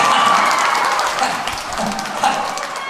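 A dense burst of audience applause at a concert event in Korea, many hands clapping together with faint crowd murmur, fairly loud and sustained for a few seconds.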